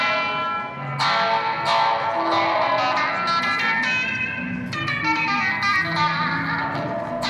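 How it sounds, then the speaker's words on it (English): A Gamechanger Audio effects unit throws out a strange, eerie, ghostly reverb, dense shimmering tones with sharp swells that bloom and smear into long washy tails, sustained and loud throughout. "you get a strange, weird, eerie, ghosty sounding reverb"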